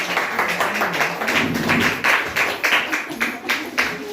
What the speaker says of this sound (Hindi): एक बार जोरदार तालियों के बीच मैं सर की इनवाइट करता हूं